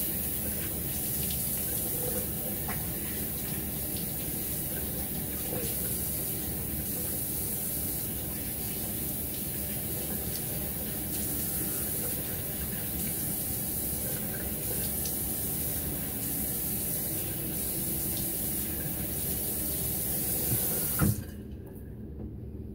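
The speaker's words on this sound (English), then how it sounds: "We'll give it a rinse and we'll come back for another one." Tap water runs steadily into a bathroom sink to rinse a razor between shaving passes, a continuous close hiss and splash that stops abruptly near the end.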